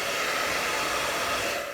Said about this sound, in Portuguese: Eu aqui vou ter que dar uma adiantada nesse processo com o secador